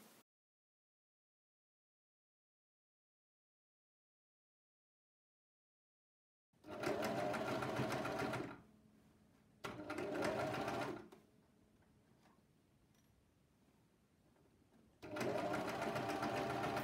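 Sewing machine stitching a dress hem, starting after several seconds of silence, in three close bursts of steady mechanical whirring separated by quieter pauses.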